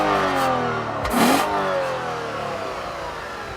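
A 2014 Lexus IS350 F Sport with all-wheel drive and a 6-speed paddle-shift transmission revs hard, its engine note swelling into a loud surge near the middle before settling into a steady, rising drone.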